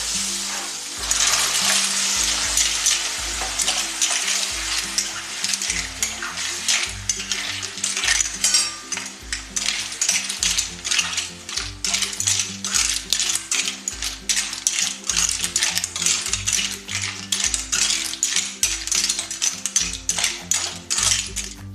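Marwai clams tossed into a pan with chopped onion and ginger-garlic paste for Karwar-style clam sukka, shells clattering and rattling as they are stirred, with a steady sizzle and background music throughout.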